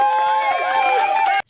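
Small audience cheering and whooping with excited shouts, lively and close, ending in a sudden cut and brief silence before a new burst.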